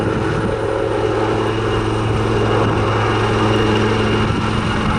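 A Royal Navy Wildcat helicopter hovers and circles at the Southport Airshow 2022, giving a loud, steady rotor and turbine drone with an unbroken tonal hum throughout.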